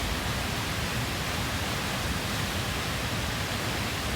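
Steady, dense roar of Hatch's Waterfalls in nature, a continuous broadband rush of falling water with no breaks, close and fairly loud throughout, no voices present.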